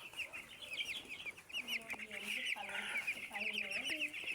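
Chickens on a small poultry farm of some seven hundred birds cluck and chatter in quick overlapping calls, near and fairly soft, with a busy flock murmur underneath.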